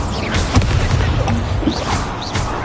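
A Hogwarts Legacy Incendio fire spell erupts in a dense, roaring rush of flame with whooshing sweeps and sharp crackles, sustained and loud throughout the short burst.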